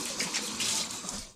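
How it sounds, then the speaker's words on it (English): Water rushes steadily from a tap's shower attachment as bottles are rinsed off, a close, even hiss with no voices. "Taps going on. Shower attachment. Let's get these rinsed off because they've got sticky on the outside."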